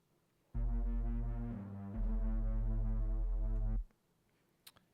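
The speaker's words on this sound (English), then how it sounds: "So we have a sub pad and kind of a mid-level pad," Sub pad and mid-level synth pads from a black metal song hold a deep, sustained low chord for about three seconds, loud and full, with a brief dip and change partway through before cutting off abruptly.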